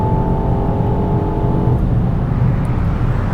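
A BMW Alpina XB7 SUV accelerates hard, giving a loud, steady engine roar with a tonal whine that drops away after about a second and a half, leaving broadband engine and road noise close by, no talk.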